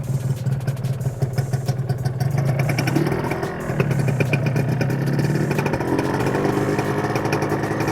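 A motorcycle engine runs continuously close by, a loud rumbling drone that rises slightly as it revs, with a rattling mechanical clatter throughout.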